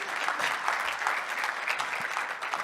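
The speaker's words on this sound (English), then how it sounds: "Big round of applause for Tad." Steady applause from a conference audience following a talk at a tech user conference, an even wash of many hands clapping at moderate distance with no speech.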